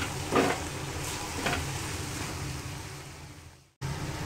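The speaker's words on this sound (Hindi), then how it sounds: "हरी मिर्चियाँ भी मैंने डाल दी है, अभी इसको भी हमको साथ में भून देना है।" Green chillies sizzling and frying in a pan for Schezwan sauce, a steady close hiss with occasional stirring scrapes, briefly cut near the end.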